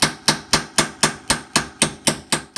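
A steel hammer strikes a seal into the lower unit of a 1977 Evinrude 15HP outboard motor, ten sharp metallic blows falling in a steady, even rhythm, close and loud with no talk.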